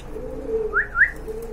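A female pigeon with a large crest gives a soft low coo followed by two rising throaty notes, close and clear over faint background hum.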